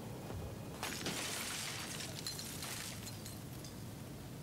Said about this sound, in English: He just heard some window smashing.